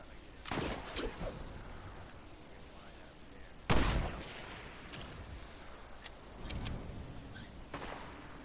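Sniper gunfire in a shooter video game comes as a few sharp, broadband shots, the strongest near the middle, set against a steady game-noise background with lighter clicks and bursts in between.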